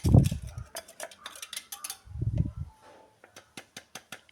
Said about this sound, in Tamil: சேர்த்து ஒரு விஸ்கால சரி நல்லா இப்படி கலந்துட்டுக்கணும்